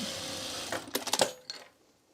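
A sewing machine stitches from dart to dart on a fabric bowl cozy in a short run of quick clattering needle strokes that trail off, close and without voices.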